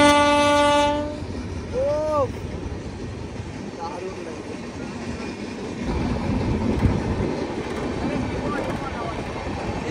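The Kanchankanya Express passes nearby, opening with a loud sustained horn blast and a shorter follow-up toot, then a rumbling clatter of wagons rolling by, with people speaking over it.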